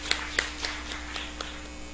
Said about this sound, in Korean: 우리 다시 한번 큰 격려의 박수를 부탁드립니다